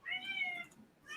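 A cat gives two meows, a long drawn-out one followed by a shorter start of another, close and clear.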